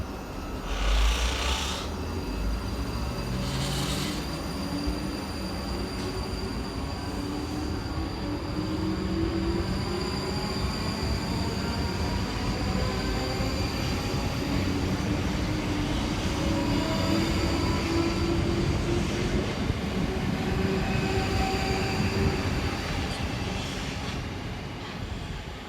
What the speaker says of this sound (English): Next out to depart will be 458403 and 458423 with the 1624 South Western Railway service through to Kew Bridge.